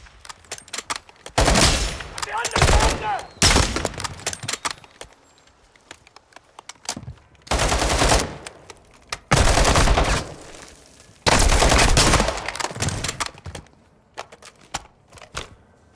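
Loud bursts of automatic gunfire from the Modern Warfare 2 Remake shooter game, several sustained volleys separated by quieter gaps with scattered single shots.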